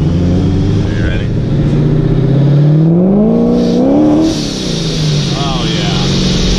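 An 840 hp supercharged Chevrolet C7 Corvette engine revs loudly up close, its rising supercharger whine sweeping upward over the throaty exhaust before dropping back, with a voice talking underneath.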